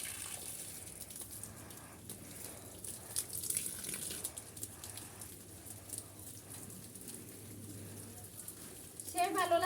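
Water patters softly and steadily onto garden plants, including a young star fruit seedling, being watered in strong sun, faint and even throughout with a low voice in the background.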